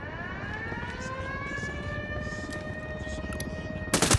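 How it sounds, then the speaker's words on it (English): Aircraft engine roar in the Ghost Recon Wildlands video game, a steady droning whine with rising tonal harmonics that stays loud throughout, swelling into a burst of noise at the very end. "Helicopter inbound."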